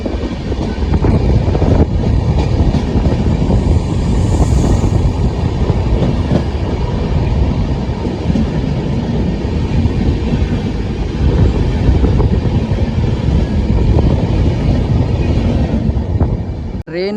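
The Delhi Pathankot SF Express runs at speed, a loud, continuous rumbling roar of wheels on rails with faint clickety-clack, heard close from inside the coach without a break until an abrupt end.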